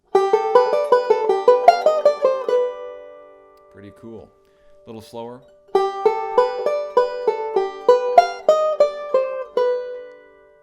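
A banjo rolls out a quick, bright lick that starts melodic-style and ends single-string, pauses while a voice briefly speaks, then plays the lick again at a slower pace.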